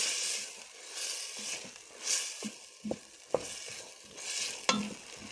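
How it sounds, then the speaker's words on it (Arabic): White beans stirred in a pot for a Moroccan bean dish, soft scraping stirs with a faint sizzle and a few sharp knocks of the spoon, no voices. "ونحرك"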